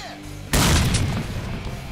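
A grenade detonates in the shooter game STALKER: Call of Pripyat, a sudden loud close boom after a quiet moment, followed by a rumbling, debris-filled decay that fades slowly.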